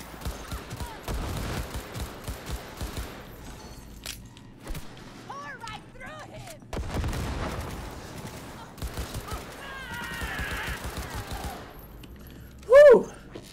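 Bursts of gunfire from a gun in Cyberpunk 2077, several separated volleys of shots with a sharp louder blast near the end, heard with game sounds and talk in between.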